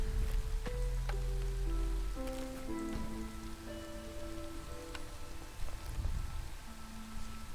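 Steady rain of the Drizzle season in the video game Against the Storm patters on surfaces throughout, with soft game tones and chimes ringing over the constant wash.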